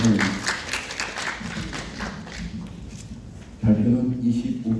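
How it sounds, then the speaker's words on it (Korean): Audience applause at a Korean Buddhist studies society lecture, welcoming a feng shui professor to the podium: a steady, moderately loud wash of clapping that dips midway and then swells again near the end, with voices mixed in. "박수 좀 환영해 주시죠."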